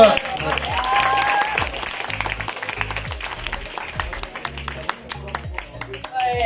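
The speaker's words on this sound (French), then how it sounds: "Franchement on peut t'applaudir avec tous les élèves." High school students applaud together in their school during a visit from a radio crew, a sustained burst of crowd clapping with some voices mixed underneath.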